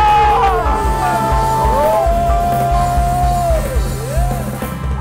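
A church congregation shouts and cheers hallelujah together in a loud, sustained collective roar, with a single voice ringing out in a long sliding call above the crowd and a low steady hum beneath.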